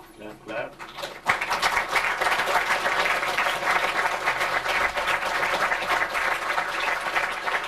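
An audience breaks into sustained applause after a short stretch of talk, many hands clapping densely and loudly for several seconds at an informal gathering, with a voice briefly audible beneath.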